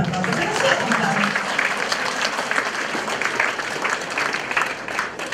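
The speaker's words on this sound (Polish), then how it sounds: "No brawa, jeszcze raz brawa" A school audience at a Polish high school's pre-prom ball claps in a sustained, dense round, with a few voices and murmurs rising faintly through the clapping.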